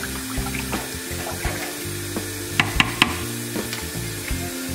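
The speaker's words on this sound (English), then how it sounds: "you're going to take and pour about a teaspoon of bleach into this" Bleach being stirred into water in a kitchen sink: a utensil clinks and scrapes against the basin, a few sharp taps, under a steady wash of running water and a low hum.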